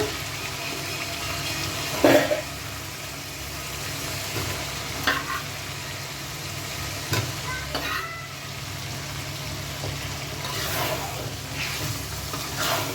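Potatoes frying and being stirred in hot spiced oil for a Bengali fish curry, a steady close sizzle with a few louder scrapes of stirring and no talking.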